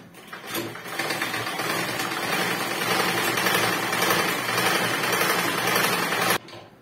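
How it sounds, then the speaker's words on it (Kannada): A sewing machine stitches a dress in a fast continuous run of rapid needle clatter, loud and close, starting and stopping cleanly with no talk. "ಹಂಗೆಲ್ಲ ಹಿಂಗಿಗೂ ಸ್ಟಿಚ್ ಹಾಕ್ಬಿಡ್ತೀನಿ"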